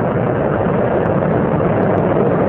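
Space Shuttle Columbia's three liquid-fuel main engines during its STS-107 launch climb, a continuous broad, heavy roar heard from a distance, steady and unbroken with no voices.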